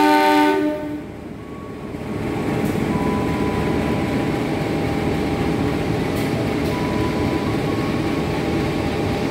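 Singosari passenger train at Jatinegara station, starting with a brief loud horn blast followed by a steady, continuous rumble and rattle of rolling carriages close by, with faint metallic squeals over the noise.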